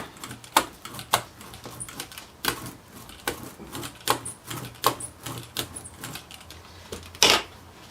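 A rubber brayer rolls over a paint-covered sheet for a touch-drawing print, giving a series of short, dry rolling and tapping strokes at an irregular pace, fairly close and quiet.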